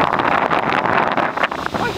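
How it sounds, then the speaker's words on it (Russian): Wind gusts noisily over open water as a tropical storm approaches in central Florida, buffeting the microphone with a loud, rushing roar throughout. "Ой, как ветер по воде красиво несет все."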